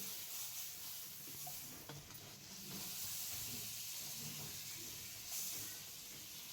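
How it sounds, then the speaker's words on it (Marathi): Butter melting on a hot tava griddle for pav bhaji, giving a soft, steady hiss and sizzle, fairly quiet and continuous with no talk. "आता तवा गरम केलेला आहे आता मस्त आपल्याला बटर लावून घ्यायचं"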